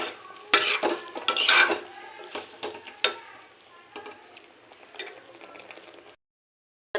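Chopped onion and whole garlic cloves being stirred in a pan, a metal spoon clanking and scraping against the pan in quick bursts over a low frying hiss, tapering off and ending in silence.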